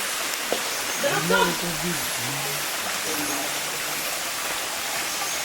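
A rural stream rushes in a steady, broadband wash close by, with a person speaking briefly over the water early on.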